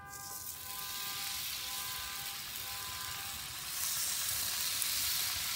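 Bacon sizzling on a portable Camp Chef Pro 90X grill at about 450 degrees, a steady hissing fry that swells louder partway through, with no talking.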